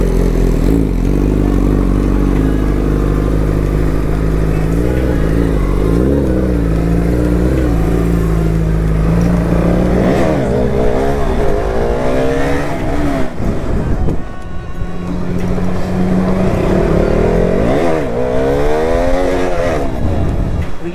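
A Kawasaki Ninja ZX10R motorcycle revs loudly and up close during a wheelie attempt, its engine pitch rising and falling in repeated surges over steady rumbling, with no speech.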